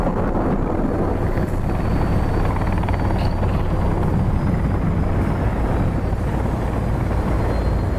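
Helicopter rotor and engine drone in the survival video game Sons of the Forest, loud and steady throughout, a dense low rumble with no talk over it.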